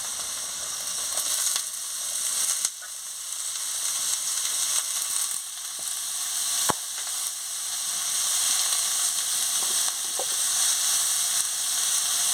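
Shrimp frying in a pan with lightly fried chopped onion, a steady bright sizzle and hiss with occasional small pops and clicks, continuous and fairly close.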